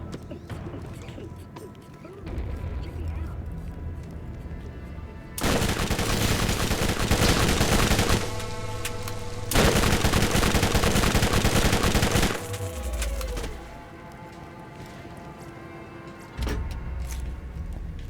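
Bursts of rapid automatic gunfire in Borderlands as a corrosive weapon is fired at metal cameras, loud and close, two long sustained volleys separated by quieter game ambience, with a shorter burst after.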